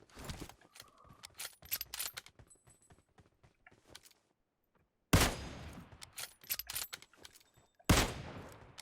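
Gunfire in the mobile battle royale PUBG Mobile on the Erangel map, with scattered quieter shots early on, then two loud close bursts of rapid fire.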